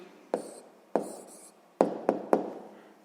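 A pen writes an answer by hand on paper, five distinct scratchy strokes spaced irregularly, close and fairly quiet with silence between them.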